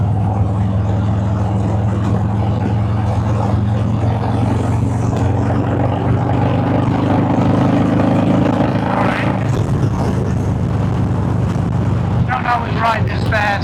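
Harley Davidson Fat Boy motorcycle riding at speed, a steady low engine rumble buffeted by heavy wind noise across the microphone throughout, with a rattling burst near the end.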